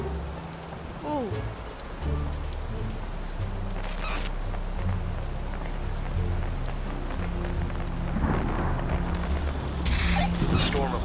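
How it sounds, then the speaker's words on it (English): Rain patters continuously on a surface, a dense steady hiss with a couple of short bright clicks and faint tonal sounds partway through. "Raining? Yes."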